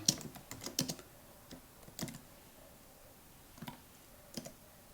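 Typing on a computer keyboard while coding a chatbot in F# on a livestream: scattered, fairly soft key clicks in small clusters with pauses between them, close to the mic.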